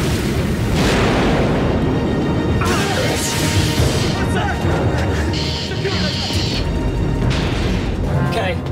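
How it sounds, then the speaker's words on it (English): A movie explosion aboard a submarine craft, a loud sustained booming rumble with crashing, metallic debris and roaring bursts, with voices heard faintly amid the din. "Explosion was on the other craft, sir."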